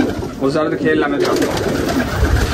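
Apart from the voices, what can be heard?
pigeons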